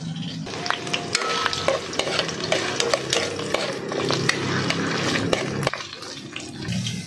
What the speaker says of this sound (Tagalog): bakit ito piniprito? Para hindi ito madurog medol.